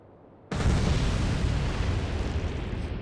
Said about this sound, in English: 2 torpedo hits and a couple of bombs as well.